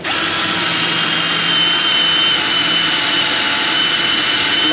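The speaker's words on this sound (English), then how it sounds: "Just keep drilling, drilling, drilling. All day, non-stop drilling." A power drill whines continuously at high pitch while boring into the exhaust of a 2007 GMC Sierra with a 5.3 engine, a steady, loud, close drone with no pauses.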